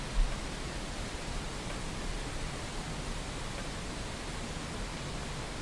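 Generated white noise hisses as a steady, broadband wash at moderate level, unbroken throughout, with no voices.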